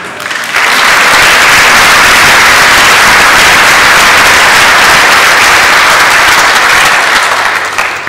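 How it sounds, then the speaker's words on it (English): A congregation at a Confirmation Mass breaks into loud, sustained applause after a brief quiet start, with dense clapping holding steady throughout and tapering at the end. "Clap for Fran, too."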